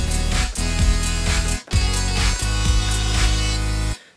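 Drum rack samples with a lead synth line transposed to pitch play as a dense electronic loop, steady beats and sustained tones running continuously for about four seconds before stopping.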